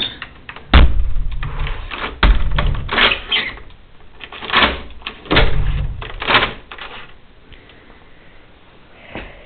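A villa door in Florence is being locked, with a series of loud clunks, rattles and metallic clicks spread unevenly over several seconds, close by.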